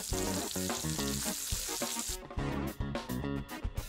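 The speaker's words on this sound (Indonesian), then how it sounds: "Ayo goreng udang." In an animated kitchen, shrimp fry in a butter-coated pan with loud, crackling sizzling in choppy bursts, pausing briefly, then sputtering again close up.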